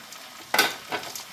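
Chopped tomatoes hit softened onions frying for chicken kadai, a brief close sizzle flaring twice in quick stirring bursts over a low hiss.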